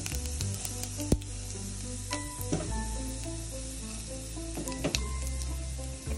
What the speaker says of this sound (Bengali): আমি এখান থেকে কিছু জিরা তেলে ঢেলে দিব